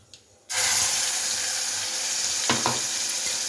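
Whole spices and ground masala hitting hot oil in a kadhai: a sudden loud sizzle that bursts in and holds as a steady, close crackling hiss, with a couple of faint clinks partway through.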